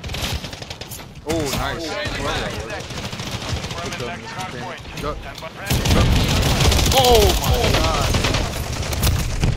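Rapid bursts of automatic gunfire fill a Call of Duty multiplayer hardpoint match, loud and nearly continuous and growing denser in the second half, while players talk excitedly over the shooting.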